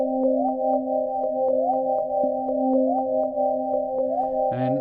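Arturia Pigments synth sequencer running a steady looping pattern with 50% trig probability, so some steps drop out irregularly over a sustained tone, loud and alone, with a brief noisy burst at the end.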